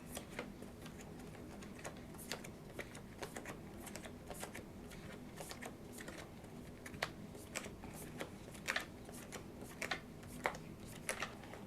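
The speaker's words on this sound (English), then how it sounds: "we're going to deal the rest of the deck, which should be 10 cards each, to each of us" Playing cards are dealt one at a time during a tabletop game, soft quick flicks and snaps landing in a loose, steady rhythm, faint and close in a quiet room.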